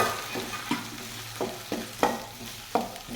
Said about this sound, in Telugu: ఉల్లిపాయ ముక్కలు, పచ్చిమిర్చి, టమాటా ముక్కలు వేసి బాగా వేగనివ్వాలి